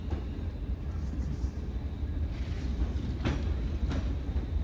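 A passenger train at Crewe station in Cheshire rumbles steadily nearby with a low continuous roll and faint clicking over the rails, and a couple of brief brighter squeals or hisses rise partway through.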